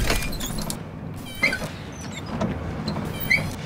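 A squeaky dorm window is slid open and closed, giving two short sharp squeals about two seconds apart over a low, steady room hum, close and clear with no talking.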